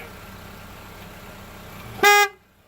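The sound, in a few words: car horn honk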